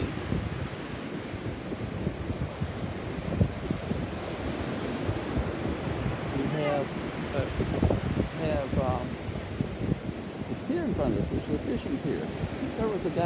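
Surf rolls in steadily along a crowded summer beach beside a fishing pier, with continuous wave wash and wind buffeting the microphone, and scattered voices faintly mixed in.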